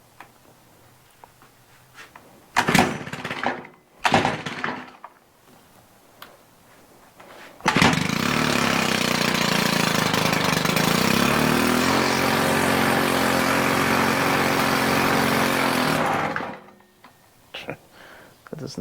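A Stihl hedge trimmer's small two-stroke engine revs loudly and steadily for about nine seconds, refusing to settle into an idle, after a few short bursts and knocks; it then cuts off, leaving quiet handling sounds.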